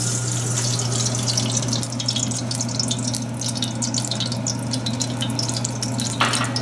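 Olive oil sizzling in a pan over medium-high heat for an Italian fish stew, a steady loud hiss with crackling spits throughout, close up and alone.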